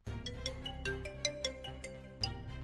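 A phone ringtone plays a quiet electronic melody of bright, plucked notes over a soft low backing, heard faintly, as a call is placed in a Hindi-language television drama.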